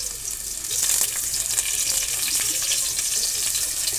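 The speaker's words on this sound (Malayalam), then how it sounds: "അപ്പോൾ സവോള, ഇത്രയും കാര്യങ്ങൾ നന്നായിട്ട് വഴറ്റിയെടുക്കുന്നുണ്ട്" Ginger, green chili and onion sizzle and fry steadily in hot oil in a pan for a Palakkad-style curry, a dense, even crackle with faint stirring under it and no talk.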